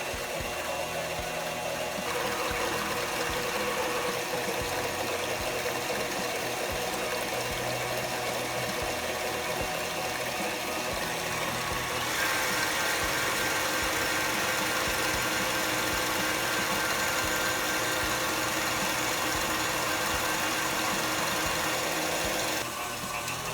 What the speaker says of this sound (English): we're gonna whisk it for about a minute